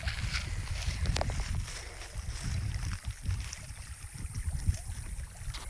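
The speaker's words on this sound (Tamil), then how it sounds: "வழிந்து ஓடக்கூடிய ஒரு நீர் ஓட்டத்தை நீங்கள் பார்த்துட்ருக்கீங்க" Water flowing in a stream, a rushing, gurgling wash heard nearby, mixed with wind buffeting the microphone and uneven in loudness.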